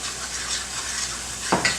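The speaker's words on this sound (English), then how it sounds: "You got to constantly stir this gravy around." Gravy for cubed steak is stirred steadily in a pan, a continuous close sizzle with soft scraping, ending in a couple of sharp utensil knocks against the pan.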